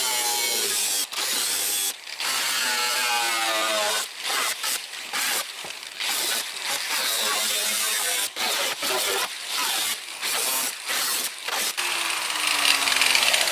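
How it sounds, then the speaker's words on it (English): A power tool cuts a hole in the rusted metal of a 1996 Ford F150 pickup, grinding loudly and close in repeated bursts broken by short pauses. "So we're just gonna cut a hole in it."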